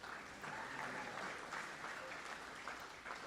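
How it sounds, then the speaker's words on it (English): A seated audience at a college Hall of Fame induction ceremony gives a sustained round of applause, dense even clapping filling the room without a break. "So let's give another big round of applause for our 2017 Hall of Fame inductees."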